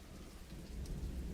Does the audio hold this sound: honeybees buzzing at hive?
no